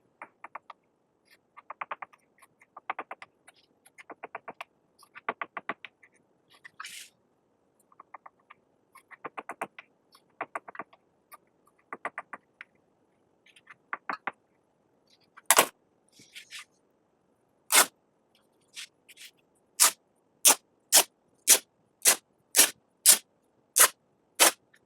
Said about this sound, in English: We're going to do the same thing, snip and rip.